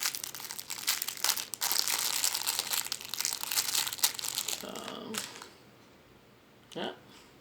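Crinkling and crackling plastic as the packaging of a clip-on portable MP3 player is pulled open, busy and close for several seconds, then a quieter pause and one last rustle.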